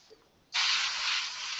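An airbrush sprays paint onto a skull design: a short quiet moment, then a sudden, steady, close hiss of air and paint that continues to the end.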